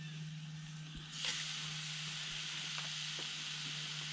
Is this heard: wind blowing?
no